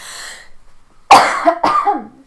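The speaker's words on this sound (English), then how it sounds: "I think I'm going to cough" Two sharp coughs, close and loud, one right after the other, following a quieter murmuring voice at the start.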